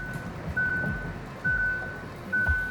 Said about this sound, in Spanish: El pitido que escucháis es que me está avisando de la temperatura de la transmisión